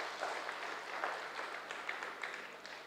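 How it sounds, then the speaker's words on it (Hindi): An audience applauds at a spiritual gathering at Gyan Sarovar, Mount Abu, with soft, distant, steady clapping that stays fairly faint throughout. "चलिए ताली बजाइए इनके लिए।"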